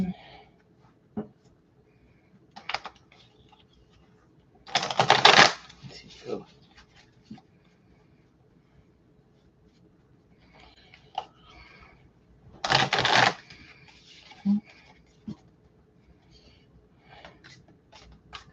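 Playing cards shuffled by hand in two short riffling bursts, crisp and close, separated by quiet stretches with small handling taps and rustles.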